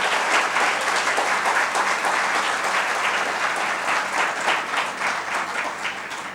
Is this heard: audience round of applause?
yes